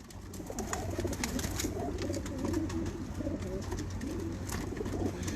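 Pigeons on a rooftop loft coo continuously in a low rolling murmur, several birds overlapping at close range, steady and fairly loud with faint higher chirps above.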